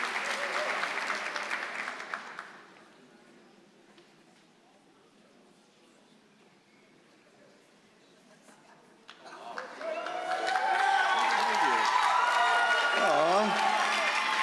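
Audience applause and cheering at a high school honors convocation for an award winner, loud broadband clapping for about two seconds, a quiet lull, then a swelling burst of cheers and applause with a voice over it.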